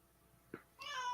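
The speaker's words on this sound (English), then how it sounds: "now is you gonna let the cat talk or what?" A cat lets out a short chirp followed by a clear, rising meow, close and distinct over a quiet background with no speech.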